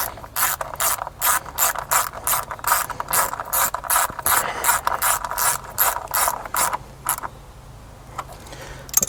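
A ratchet clicks in quick repeated bursts, tightening a coil pack bolt on a Chrysler 200 3.6l V6 engine, close and crisp, before the clicking stops near the end.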